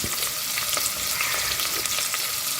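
Sliced onion and a sprig of curry leaves frying in hot oil in a pan with whole spices, a dense, steady crackling sizzle that stays close and even, with no talking.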